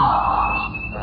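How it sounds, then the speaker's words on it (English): A house alarm sounding inside a home in a horror film, a loud, continuous electronic wail held steadily throughout. "Something sets off the alarm inside Britt's house"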